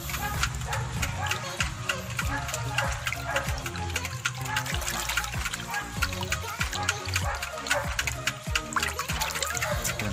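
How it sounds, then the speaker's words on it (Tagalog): Hydroponic nutrient solution is stirred by hand, giving steady close sloshing and trickling water with irregular splashes over about ten seconds, while a voice talks at times underneath. "Kaya dapat natin na haluin yung tubig."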